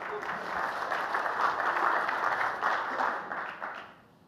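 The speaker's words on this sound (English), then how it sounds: "Round of applause for David, please." A conference audience at a publishing summit in Austin, Texas breaks into applause, a sustained wash of clapping that swells and then fades away at the end.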